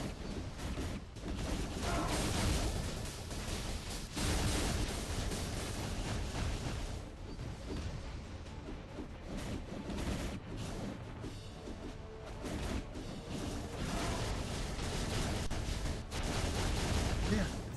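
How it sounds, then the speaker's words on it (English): Rumbling explosions and blasts from the mobile video game Marvel Future Fight, dense and continuous battle effects with repeated bursts throughout, loud and busy, with someone talking over parts of it. "It's like residual explosion."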